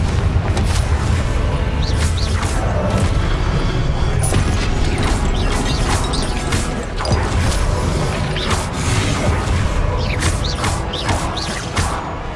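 Spell casting in Hogwarts Legacy produces a dense, loud barrage of magical whooshes, booms and crashing impacts that goes on continuously with little pause.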